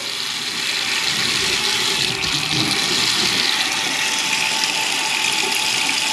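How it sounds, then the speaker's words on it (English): A hot water faucet runs steadily in a house under remodel, a constant broadband rush of water with a slight hollow pump-like undertone, close and continuous with no pauses or voices. "I'm going to turn on this hot faucet here"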